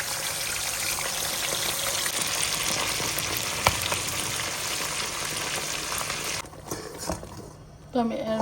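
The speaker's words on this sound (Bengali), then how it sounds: "এলাচ, দারচিনি আর তেজপাতা আস্তা দিয়ে একটু বাগার দিয়ে পেঁয়াজটাকে একটু ভেজে নিচ্ছি" Onion frying in oil with cardamom, cinnamon and whole bay leaves for a roast dish: a dense, steady sizzle filling most of the stretch, with a brief knock, then quieting near the end as a voice begins.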